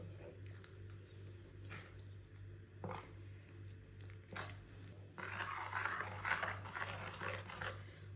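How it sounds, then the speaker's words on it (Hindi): Thick breakfast batter for a Ramadan sehri dish being mixed by hand in a bowl, with soft wet squishing strokes, quiet at first and louder and busier toward the end, over a steady low hum. "अच्छी तरह मिक्स कर लिया, आप देख सकते हैं।"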